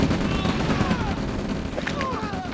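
Gunfire ripples through a battle in the strategy game OpenRA Red Alert, a dense, continuous rattle of small-arms shots with thuds and faint unit chirps, heard under someone talking.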